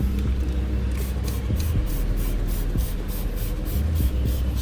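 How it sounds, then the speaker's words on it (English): Tire shine sprays onto a car tire in a steady hiss that runs unbroken at close range, with faint rhythmic ticks underneath. "now we just top it off with some tire shine"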